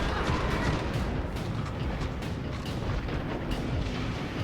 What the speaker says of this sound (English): Something's shooting me.